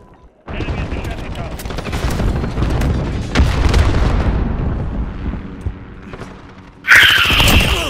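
Semtex grenade going off in Call of Duty: Modern Warfare, a loud sudden burst near the end following a stretch of dense game gunfire and booming effects.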